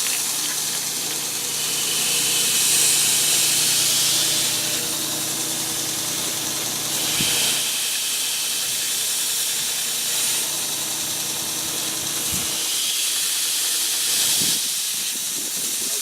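Power sander roughing down epoxy on the outside of a handmade fishing and shell knife handle makes a loud, continuous hissing grind, with occasional brief knocks and dips in pressure.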